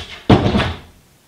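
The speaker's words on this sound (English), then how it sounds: "Okay, close the door." A door swings shut with a single solid thud, followed by a short fading rattle, close and loud against a quiet room.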